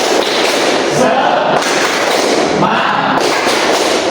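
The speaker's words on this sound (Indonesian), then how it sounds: "Lagi, jadi keras semangat ini. Lagi. Tepuk semangat" A group in a teacher-training class claps the rhythmic 'tepuk semangat' chant together, a loud, dense burst of hand claps with thudding beats that fills the room and carries over a few brief pauses.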